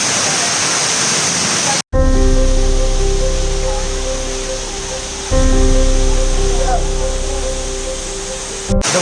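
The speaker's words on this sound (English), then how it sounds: "Our next destination for the day is Rimbi waterfalls. It's a small waterfall but yet a cool waterfall." Rimbi waterfall, a small waterfall in Sikkim, rushes with a steady broadband roar, while a low tonal hum comes and goes over it after a brief cut.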